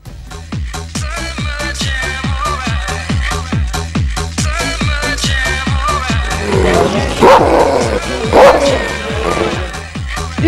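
A K9 dog guarding a shoe barks in a steady, rapid series, loud and close, with some whining and yelps mixed in toward the end.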